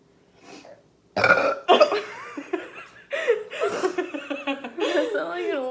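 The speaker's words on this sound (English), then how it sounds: "You can burp now." Loud, close burps after drinking Sprite, several in a row, mixed with laughter and chatter from people nearby.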